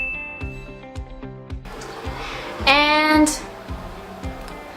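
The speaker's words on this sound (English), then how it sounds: "That is the sound of a scooter." A scooter engine on a street in Taiwan buzzes past over a steady rhythmic mechanical pulse, its whine rising and swelling loudly midway before fading back, with a brief spoken word near the start.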